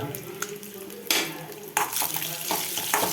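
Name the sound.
egg frying in a pan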